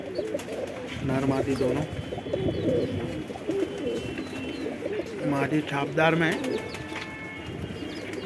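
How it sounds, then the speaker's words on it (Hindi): Pigeons, a breeding pair of flying birds offered for sale, coo softly in low repeated phrases beneath someone speaking Hindi throughout. "दोनों अच्छे उड़ते हुए कबूतर है"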